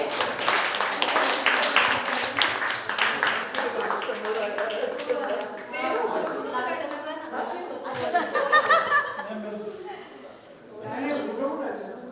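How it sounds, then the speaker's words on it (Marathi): An audience at a photography contest award ceremony claps in loud, dense applause that fades gradually, with chatter and some laughter mixed in. "टाळ्या जोरात झाल्या पाहिजे."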